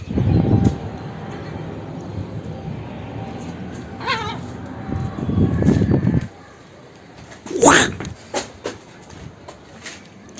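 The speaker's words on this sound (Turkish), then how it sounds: "Anne martı şu an çatıya kondu." Seagulls on a rooftop in Istanbul, with a couple of sharp, rising cries and short calls heard over rumbling outdoor background noise and wind, fairly close and loud in the second half.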